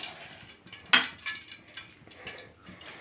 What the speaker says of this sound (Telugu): స్టవ్ వెలిగించి గిన్నె పెట్టి ఆయిల్ పోసాను